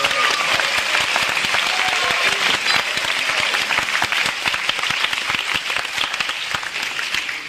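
Audience applause for the bass player at a bluegrass concert, a loud, dense and steady burst of many hands clapping that carries on for the whole stretch before tapering slightly at the end.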